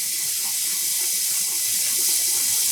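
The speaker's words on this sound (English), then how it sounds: "so we're going to give it another rinse" Steady running water rinses hand-dyed yarn in a sink to wash out excess unexhausted dye, a continuous close hiss of tap flow with no voices.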